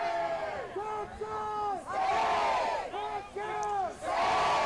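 Football crowd roaring and chanting in harmonized bursts during a Lone Star Alliance Division 1 playoff final, several swells of massed voices rising and falling, loud and sustained.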